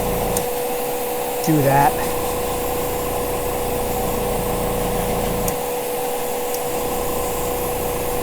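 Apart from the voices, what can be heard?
airbrush spraying paint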